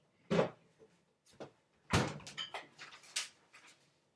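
A refrigerator door opens and closes in a home kitchen, a few soft thumps and rattles with light clatter in between, close by and fairly quiet, with no talking.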